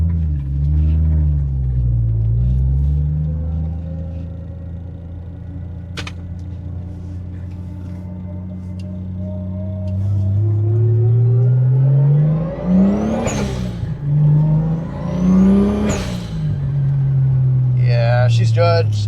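A turbocharged Toyota 7M Supra engine with an upgraded CT26 turbo idles with a low rumble, then revs up and accelerates in rising surges, loud and close.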